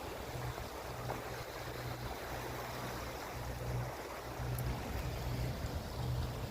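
Sailboat motor sailing under engine at about six knots on flat seas, with a steady low engine drone and a faint wash of water running beneath it throughout.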